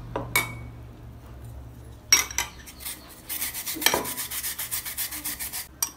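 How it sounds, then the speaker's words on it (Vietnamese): Carrot being finely grated by hand, a dense run of rhythmic scraping strokes up close, with a few light clinks of utensils between bursts and no voices. "Cà rốt mài mỏng"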